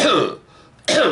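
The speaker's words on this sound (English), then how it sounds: "I gotta clear my throat." A short, harsh throat clearing up close, two rough bursts separated by a brief quiet gap.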